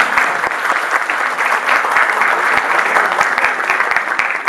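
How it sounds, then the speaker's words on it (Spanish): An audience at a law book presentation bursts into dense, loud applause, continuous clapping from many people at close range with sharp individual claps poking through the steady roar. "Pido un aplauso."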